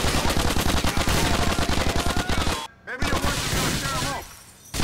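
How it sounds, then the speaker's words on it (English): Rapid bursts of automatic gunfire in the video game GTA 4 rattle loud and close, with a brief gap near the end before the shooting resumes, while a player's voice talks over it. "Man, this is a lot of guys to shoot through."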